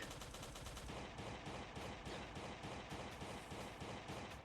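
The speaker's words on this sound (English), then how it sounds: "Uzi sounds so silly when it's little Uzi action." An Uzi submachine gun fires in Last Day on Earth: Survival, rapid dense bursts running continuously and loud, with no talk.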